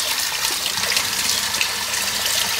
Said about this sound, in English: He's having a drink, but he's playing with the water.